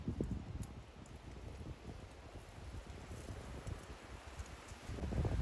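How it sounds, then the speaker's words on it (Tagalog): Strong wind gusts and buffets a microphone outdoors during a blackberry harvest, a steady loud roar of low rumble and rustle throughout, swelling harder near the end. "Super ang hangin."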